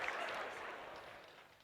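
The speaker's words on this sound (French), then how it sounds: "Un tonnerre d'applaudissements pour..." Brief burst of audience applause at a student debate, a dense wash of clapping that begins loud and gradually thins out over under two seconds.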